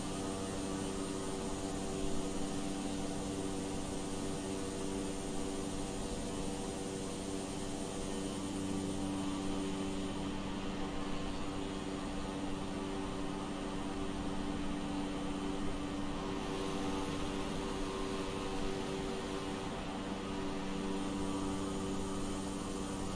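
A light airplane engine drones steadily and loudly through short takeoffs and landings, a continuous near, tonal propeller roar with little variation.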